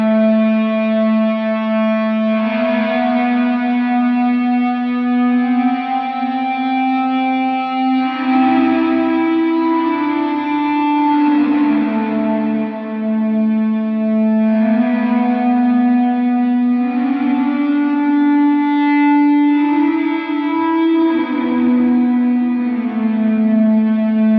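Sustained, singing guitar notes swell and glide slowly, drenched in a long wash of reverb that blurs each tone into the next, with no talking.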